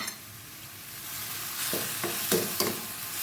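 Chili and garlic stir-frying in a hot pan for stir-fried bamboo shoots with minced pork, a steady close sizzle with a few louder bursts as the spatula stirs, no voices.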